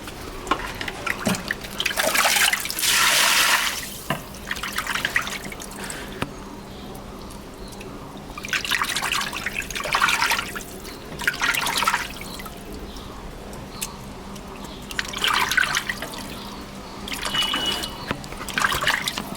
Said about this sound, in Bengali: চলুন মাছটা ধুয়ে নিই।